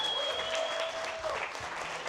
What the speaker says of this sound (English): Y'all give a round of applause for Sonny, please